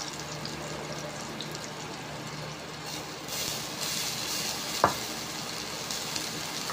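Ginger and onions sizzle steadily in a hot pan for chicken arroz caldo, a dense hiss broken by a single sharp clink near the end, with no talk.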